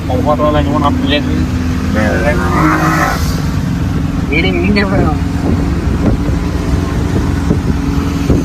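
An auto rickshaw engine drones loud and steady from inside the moving vehicle in Vizag, a continuous low rumble with wind noise, while people talk over it throughout.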